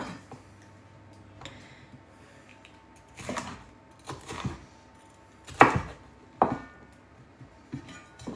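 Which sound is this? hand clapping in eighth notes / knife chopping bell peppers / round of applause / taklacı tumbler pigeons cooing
knife chopping bell peppers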